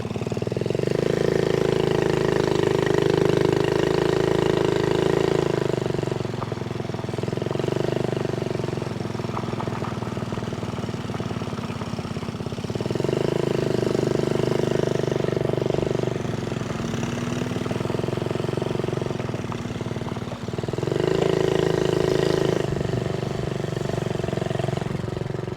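Small Honda Z50A minibike engine running, a steady buzzing drone that swells and fades in repeated waves as it passes, moderately close and without talk.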